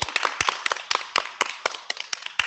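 Sparse clapping at a storytelling workshop during a farming conference, a small group of hands beating in an uneven rhythm of distinct, fairly close claps for a couple of seconds with no talk.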